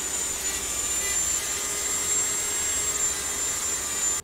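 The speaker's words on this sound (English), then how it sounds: "I take a stone wheel and just round off the edges very slightly" A rotary stone wheel grinding and rounding the edges of a foam samurai helmet part, giving a steady, loud, continuous high whine with no breaks.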